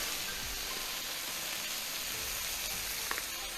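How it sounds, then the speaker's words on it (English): Mixed vegetables stir-frying in oil in a hot pan for cheesesteak and Cajun chicken subs, giving a steady, dense sizzle with a few faint scrapes of stirring. "A little more of the oil because I see it's going away, and I want to stir fry that"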